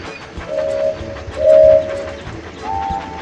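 Train running along the tracks in a kids' video game, with steady whistle-like tones repeating over a low rumble and no talking.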